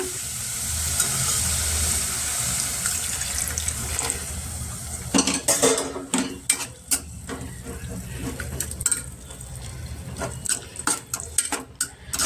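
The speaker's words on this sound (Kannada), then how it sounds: "ಅಲ್ಲೇ ಹಾಲು ಹಾಕ್ಬಿಡೋಣ." Milk is poured into a pan of grated carrot fried in ghee for carrot halwa, a soft pouring hiss followed by sharp clinks and scrapes of a spoon against the metal pan, close and uneven, with no talk.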